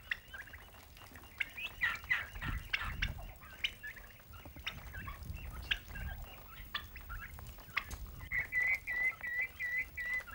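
A large farm turkey gobbles and chirps again and again while a person plays with it. The calls are close and fairly quiet, mixed with soft shuffling and thumps, and a warbling note runs near the end.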